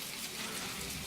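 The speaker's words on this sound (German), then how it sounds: "Heute mal wieder ein regnerischer Tag." Steady rainfall in the video game My Time at Portia, a soft continuous hiss of drops on surfaces with no other sounds, heard alone.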